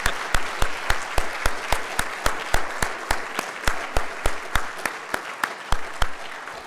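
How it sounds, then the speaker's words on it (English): Applause at the 2018 Gaithersburg State of the City address: a few close, sharp hand claps at a brisk, regular pace over a soft crowd wash, lasting several seconds. "let's do a round of applause for those we've named thus far"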